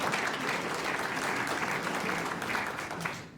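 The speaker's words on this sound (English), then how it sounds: "So can we give him a round of applause?" An audience at a National Press Club climate debate applauds a debate opponent, producing a loud, sustained round of clapping that stays steady throughout and fades slightly at the end.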